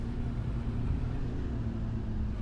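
A truck engine in Farming Simulator 25 rumbles at a low, steady idle as the vehicle rolls into a farm garage, a continuous even drone with no voices over it.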